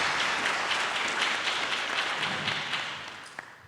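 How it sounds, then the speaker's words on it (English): An audience applauds the ten finalists at a university pitch competition, a dense, even roll of many hands clapping in a large room that slowly fades toward the end. "Can I get one big round of applause for all 10 of our presenting finalists?"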